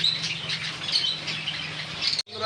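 Caged pet cockatiels, lutino white and black adults, chatter with a dense stream of high chirps and squawks over a low steady hum, ending in a sudden cutoff.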